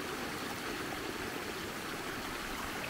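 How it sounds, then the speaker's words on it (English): Rainwater running across a farm after rainfall and cutting a path around brush, a steady, close rushing trickle like a small stream, continuous and even with no talk. "some flow here, and the water neatly carved its way"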